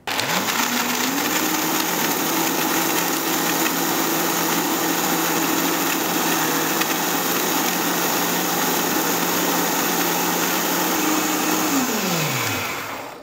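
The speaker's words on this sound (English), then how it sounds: "Now leave that blending for a little while because I want the nuts to be completely smooth." A blender runs continuously on maca nut cream, spinning up with a rising whine, holding a steady loud motor drone with grinding texture for about twelve seconds, then winding down at the end.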